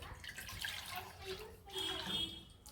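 Water running and splashing as a cooking pot is rinsed and washed in a kitchen, a steady faucet stream with a few brief clinks, fairly close and moderate in level, with no talk.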